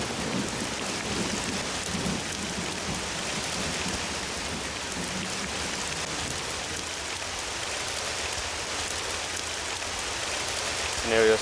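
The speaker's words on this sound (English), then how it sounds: "It may get loud due to the rainfall" Heavy rain pours down steadily and loudly for the whole stretch, a dense even wash with no break, setting the scene for a staged Great War battle.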